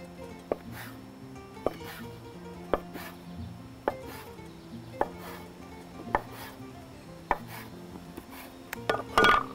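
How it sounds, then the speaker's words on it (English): A knife slicing cooked za'atar chicken on a board, with evenly spaced single knocks repeating about once a second, close and fairly quiet, ending in a quick cluster of cuts. "we're gonna slice them into about a 1/2 inch to 1 inch slices"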